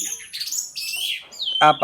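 An orange-headed thrush, kept as a cage bird, gives a quick run of bright, varied chirps and whistles, loud and close, ending in a sharper burst of notes.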